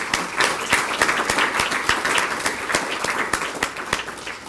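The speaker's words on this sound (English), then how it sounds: "So one more claps for our students" Audience clapping for students at a scholarship reception, a continuous, fairly loud patter of many hands with individual sharp claps punctuating it, holding steady then easing slightly at the end.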